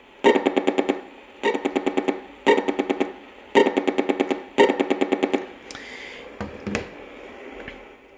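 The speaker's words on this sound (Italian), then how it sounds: "il segnale prodotto ed inviato dal telecomando attraverso il sensore infrarosso" A radio speaker buzzes with an LG infrared remote's signal in five rapid pulsed bursts of clicks, followed by a few scattered softer clicks and rustles.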